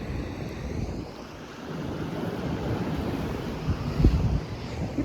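Ocean waves washing in at high tide at Avon-by-the-Sea, a steady broad rush of surf mixed with wind buffeting the microphone, with no voices.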